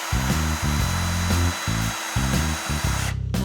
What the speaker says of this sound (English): I'll take the drill from you.